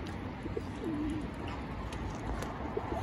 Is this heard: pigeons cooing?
yes